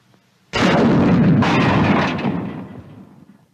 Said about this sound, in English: It takes a little time for the rocket to get out of the tube.